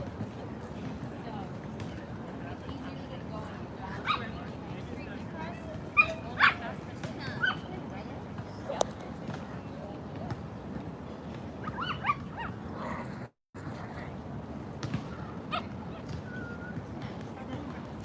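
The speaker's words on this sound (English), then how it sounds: "These dogs seem very happy." Small dogs yip and bark in short scattered bursts in the small-dog section of a Manhattan dog park, faint against outdoor city background noise, with a person talking at times.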